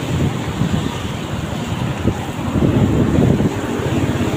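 Heavy wind buffets the microphone with a constant roar, punctuated by low rumbling gusts, as if rushing along on a moving motorcycle.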